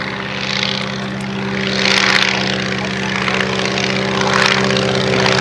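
Airco DH2 replica, a propeller biplane displayed at an airshow, droning overhead with a steady buzzing engine whose loudness swells and fades as it passes, loud and alone without talking.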